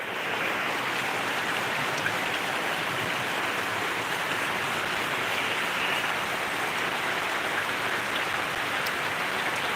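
Heavy rain pours steadily outdoors in Rampura Mota village, Dhanera taluka, a dense continuous roar of downpour with no pause and no talk.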